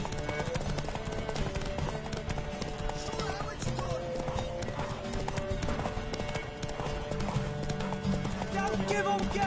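Horse hooves clip-clopping in a PS4 game, steady galloping rhythm mixed with game music and effects, with a player talking over it.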